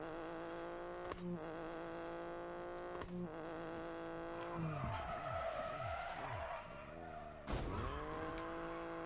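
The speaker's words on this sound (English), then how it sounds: "It's like being in the supermarket car park doing some burnouts." Rally car in WRC10 on Nintendo Switch doing burnouts in an open area, its engine revving in repeated bursts with tyres skidding and squealing, steady and close throughout.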